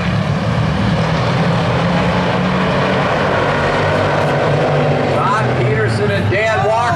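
Hobby stock cars roar around a dirt oval during a 30-lap main event, a dense, loud, continuous engine drone with shifting pitch as the field passes, while an announcer talks over it.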